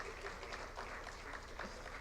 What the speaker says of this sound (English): I think His Excellency deserves a round of applause